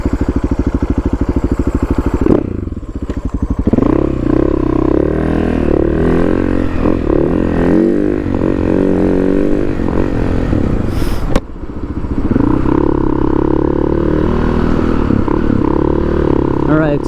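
A Husaberg FE 570 motorcycle runs steadily on a test ride with a worn, mushy clutch, its loud engine droning throughout with changing pitch and a brief dip near the middle, mixed with clatter and wind.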